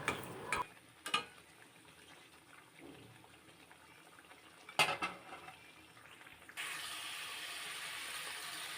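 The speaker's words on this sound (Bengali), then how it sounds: "এবার আলতো হাতে আস্তে আস্তে মাছগুলো নাড়াচাড়া করব যাতে ভেঙে না যায়" Pieces of silver carp are gently turned in a pan as they braise. A few soft spatula clicks come first, then a low sizzle settles in and grows steadier. Close and quiet, with no talking.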